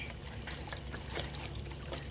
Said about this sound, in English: so you're gonna pour that in there with your water